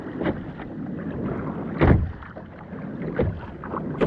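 A kayak paddled slowly out on the sea during offshore fishing, with soft splashing paddle strokes at an irregular pace, one louder splash near the middle, over steady wind noise on the microphone.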